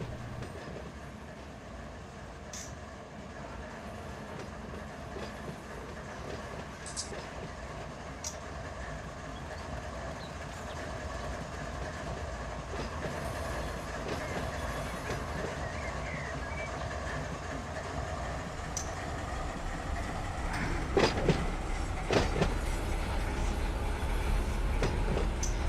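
A train rolling on rails in Run 8 Train Simulator, a steady close rumble with faint clickety-clack. Occasional high squeals and clanks come from the wheels, and the sound grows louder and rougher toward the end. No one speaks.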